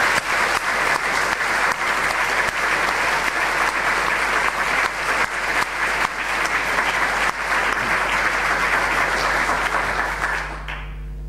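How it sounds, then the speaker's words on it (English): Audience applause after final thanks at a diocesan gathering, steady dense clapping from a large crowd that carries on evenly for about ten seconds before tailing off at the end. "I think they all deserve a round of applause"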